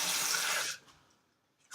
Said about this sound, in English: So you want to be careful when you're adding any water.